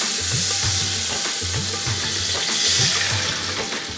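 Water splashes into hot oil with fried garam masala for chicken tikka biryani, giving a loud, steady sizzle with bubbling and stirring throughout, close by and with no talking.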